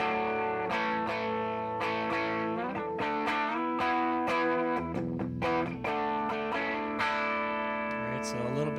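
An electric guitar plays sustained chords through a Caline CP-20 Crazy Cacti overdrive pedal, with its comp cut engaged. The tone is distorted and thick, and the notes ring out in a steady, loud strum with no talking.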